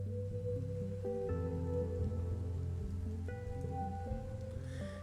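Steady soft rainfall patters in the Exocolonist video game, a constant wash under sustained musical tones and chords with no voices.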